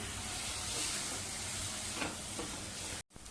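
Chopped tomato sautéing in spice masala in a pan for dal palak, a steady close sizzle with faint stirring scrapes throughout, cut by a brief drop near the end.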